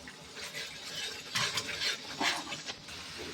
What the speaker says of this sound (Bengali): মশলাটা এবার ভালো করে পাকাবো।